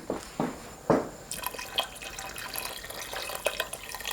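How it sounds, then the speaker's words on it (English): About a cup of water poured into a pot of Afghan barley soup: a few close splashing, dripping pours at the start, then a softer trickle of liquid. "I think I'm gonna add like about a cup of water."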